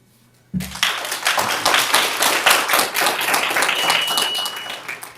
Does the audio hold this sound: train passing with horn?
no